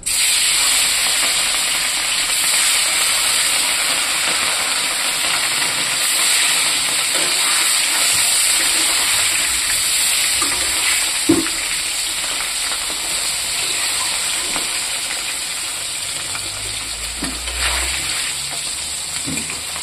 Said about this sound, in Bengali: এখন বন্ধুরা তেলটা গরম হয়ে গেছে, এখানে মাছ ভাজাটা করে নেব।